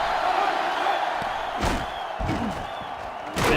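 Stadium crowd noise from the NCAA Football 2005 video game on GameCube: a sellout crowd roars in a steady loud wash, with brief swells and thumps rising out of it.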